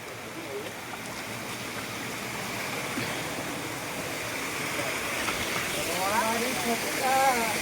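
Flowing water of the Mahor waterfall stream, a steady broad rushing wash that swells slightly louder toward the end, with people talking over it.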